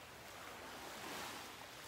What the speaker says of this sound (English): We'll turn. We're at the ocean.